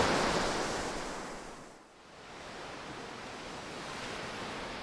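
Sea waves wash onto a beach in a steady roaring rush, surging, briefly easing as one wave recedes, then building again, close and continuous with no voices.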